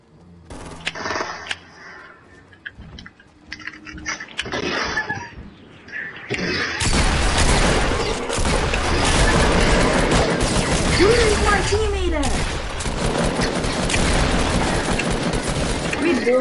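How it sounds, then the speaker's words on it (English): Video-game gunfire in a duos match, at first distant scattered shots under talk, then a dense, loud stretch of rapid shooting and crashes that continues to the end. "go towards the shooting"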